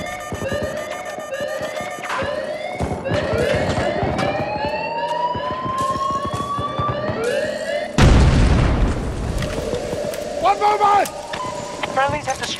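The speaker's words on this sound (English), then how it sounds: "Throwing grenade!" A grenade blows up in the Battlefield 2042 video game with a sudden loud boom cutting through dense gunfire, sirens and alarm tones, while voices call out in the chaotic battle mix.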